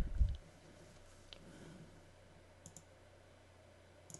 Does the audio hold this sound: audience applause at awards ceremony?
no